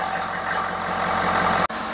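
A 2012 Ford F-250 Super Duty with a 6.7 diesel idles close by with a steady, rough clatter and low rumble, briefly cutting out near the end before resuming.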